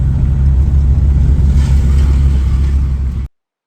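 Classic Mini driving on a bumpy everyday road, heard from inside as a loud, steady low engine and road rumble that cuts off abruptly at the end.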